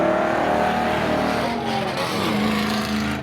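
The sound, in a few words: GM-powered pickup truck drag racing at speedway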